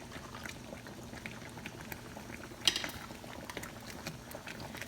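Water boiling in a double boiler holding oils for a hair pomade, a faint, close bubbling with soft pops and a brief sharper splash midway, and no talk.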